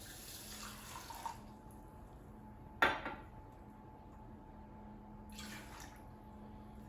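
Water poured into an oven-proof dish holding a cup of raw rice, a brief splashing pour with a light clink of the dish, followed by a quieter second trickle near the end, close by with no talking.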